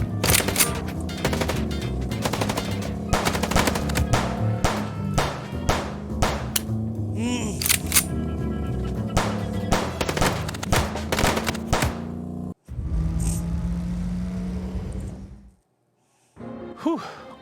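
Rapid bursts of gunfire fill a shootout in the video game Chicken Police, dense repeated shots and impacts running loud and continuous for about twelve seconds before a short pause and a steadier rumble.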